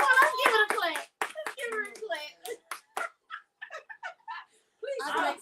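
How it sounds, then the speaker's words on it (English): Excited voices talk and cheer while scattered hand claps break in among them, with a short burst of clapping near the end. "let's give it a clap"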